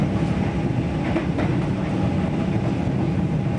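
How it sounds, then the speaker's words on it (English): A Melbourne suburban train carries passengers outbound toward St. Albans. From inside the carriage comes a steady, loud low rumble with faint rail clatter and no voices. "I just thought I'd do a video of a train ride."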